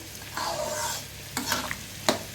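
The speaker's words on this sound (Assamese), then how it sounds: "এগিলাচ গৰম পানী ঢালিম।" A glass of hot water poured into a pan of fish and bottle gourd curry, giving a soft hissing sizzle with a few stirring scrapes, fairly quiet and close.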